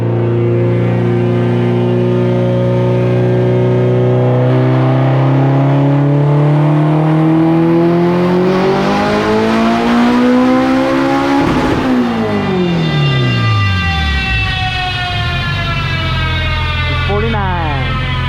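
A race car engine with a full exhaust and kill switch revs up and down, loud and close, its pitch climbing steadily, dropping sharply, then settling into a raw idle.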